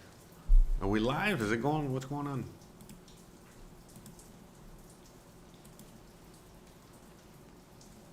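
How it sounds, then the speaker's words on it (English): Heavy rain falling outdoors, a steady fine patter of drops continuing throughout, with someone speaking close to the microphone for the first couple of seconds. "It literally just started to rain very hard as we were going live."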